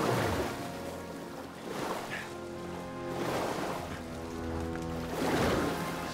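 Water surges and washes through a flooded tunnel in Star Wars Jedi: Fallen Order, a continuous rushing wash that swells and recedes in slow waves over several seconds, with no talking.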